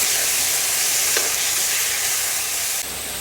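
Marinated pork for igado sizzles loudly in a hot pan and is stirred, a dense, steady hiss of frying with a brief scrape of the utensil partway through.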